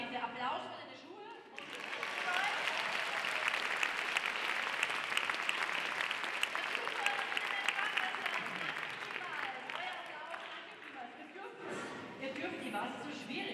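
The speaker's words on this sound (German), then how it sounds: "Na bitte, Applaus für deine Schuhe." Audience applause at a youth choir festival performance by a school choir, a broad sustained clapping swell rising after a brief voice and fading out, with talk returning near the end.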